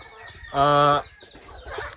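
A single loud cluck from a nearby native country chicken, brief and sharp, with faint farmyard background noise around it.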